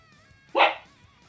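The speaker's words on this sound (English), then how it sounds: "Sorry if you hear my dogs barking here." A single sharp dog bark rings out briefly over a quiet, faintly humming background.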